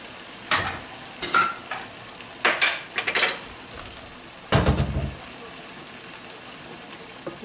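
Chorizo and potatoes cook in a covered pan, with intermittent bursts of sizzling and clattering between quieter stretches, heard up close.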